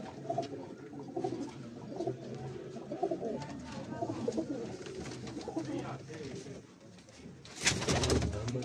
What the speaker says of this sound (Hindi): ये डब्बा का कबूतर